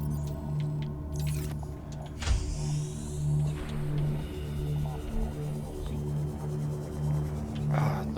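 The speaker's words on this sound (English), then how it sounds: "Ah, the morning sunrise sound is so fun." Ambient morning sunrise soundscape from an underwater survival game, a steady layered drone with pulsing low tones and soft sweeping swells, plus a few brief brighter accents, continuous and moderately loud with no talking.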